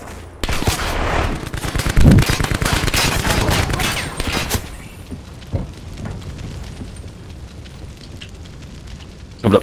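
Rapid automatic gunfire and bursts in the video game Call of Duty: Black Ops 4, a dense loud barrage for several seconds that thins into scattered shots and distant booms.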